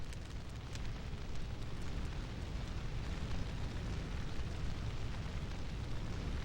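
A raging fire in the video game Breath of Fire 4 gives off a steady, deep roaring rumble that holds evenly throughout, with no voices over it.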